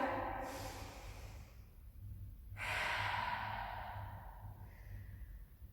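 Breathing during a stretch-and-balance exercise: two long, breathy inhales and exhales, close and audible, over faint background hum.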